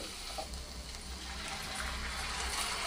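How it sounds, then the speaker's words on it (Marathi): Water pouring steadily into a pot of rice for sweet coconut rice, a soft, continuous rushing splash, fairly close, lasting a few seconds without talk. "त्याप्रमाणे आपण 2 वाटी पाणी घालणार आहोत"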